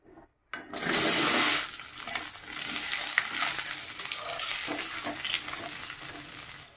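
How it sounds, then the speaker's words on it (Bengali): Potato pieces dropped into hot oil in a kadai, a sharp hiss that swells right after they go in, then settles into a steady, close sizzle with small pops. "আলুটা দিয়ে দিলাম।"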